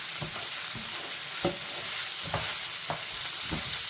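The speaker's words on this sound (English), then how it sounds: "Add the pre-cleaned and washed rice to the pan and continue sautéing, ensuring it mixes well." Rice sautéing with onion and garlic in hot oil in a pan for paella, cooked outdoors on a boat; a steady close sizzle broken by several scraping stirs at uneven intervals, with no voices.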